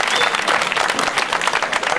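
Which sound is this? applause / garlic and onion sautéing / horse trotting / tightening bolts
applause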